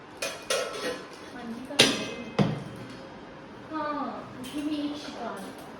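A new kadhai and a biryani handi being handled at home, giving several sharp metallic clanks and bangs followed by lighter clattering of cookware, all under ongoing conversation.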